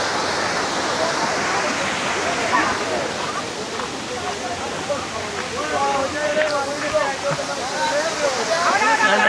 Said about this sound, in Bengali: ঝর্ণা প্রবাহিত হচ্ছে, এখান থেকে দেখা যাচ্ছে।